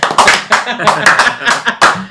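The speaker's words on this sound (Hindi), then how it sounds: "सर एक बार तो जोरदार ताली बजा दी सर" Several people clap in a studio, loud and close, in a fast, uneven burst lasting about two seconds, with light laughter mixed in.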